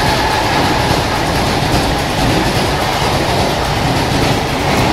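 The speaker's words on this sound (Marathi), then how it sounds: "ट्रेनचा आवाज" A Mumbai train rumbles along loudly and continuously, wheels clattering over the tracks with a dense, steady roar from close by.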